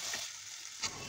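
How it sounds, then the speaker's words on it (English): Something fried in a pan until it changes color, giving a faint continuous hiss with one soft scrape of a stir, no voices. "Fry until changes color."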